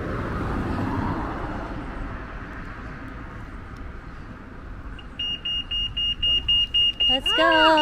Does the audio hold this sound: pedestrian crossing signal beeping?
yes